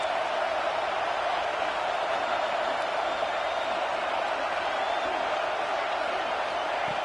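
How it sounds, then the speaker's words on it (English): Football stadium crowd roaring steadily through a third-down play, a dense, continuous wash of cheering and noise that stays loud without letting up. "3rd down, and the crowd really getting into it."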